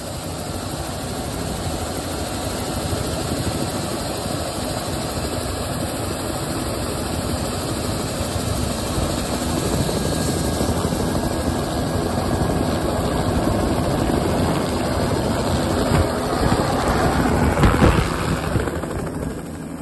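A crop-dusting helicopter drones steadily and loudly over fields, its rotor and engine noise constant throughout with no voices.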